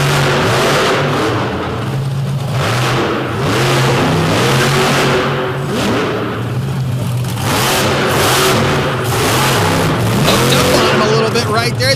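The Redneck Rampage monster truck's engine revs hard and steadily through a freestyle run at a Madison arena show, loud and continuous under an announcer's commentary.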